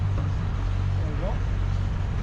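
A vehicle engine holds steady at 1500 RPM, a loud continuous low hum with a constant tonal drone, close by, with a person talking over it.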